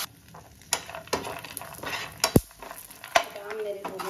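Food fries and sizzles in a pan on a home stove, with a soft crackle under sharp clinks and scrapes of a utensil stirring against the cookware.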